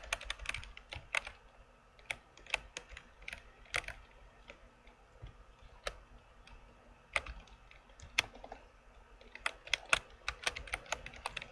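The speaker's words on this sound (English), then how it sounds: "Sorry if you hear the keyboards." Rapid computer keyboard typing clatters steadily throughout, with dense irregular keystrokes and occasional louder clicks, fairly close and alone, with no speech over it.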